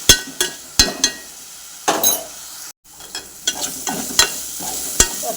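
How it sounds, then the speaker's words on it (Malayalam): Spoon stirring fish and salt sautéing in a pan for Kerala-style fish pickle, giving repeated sharp scrapes and clinks against the pan over a low sizzle, close and fairly loud, with no talking. "നന്നായിട്ട് ഇളക്കി കൊടുക്കുക."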